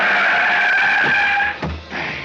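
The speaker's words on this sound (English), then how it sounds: "I went sprawling into the street in front of an oncoming car" A car's tires squeal in a long, loud skid as it swerves toward someone sprawled in a city street, followed by a couple of dull thumps as the skid dies away.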